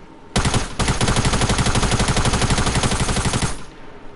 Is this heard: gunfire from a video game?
yes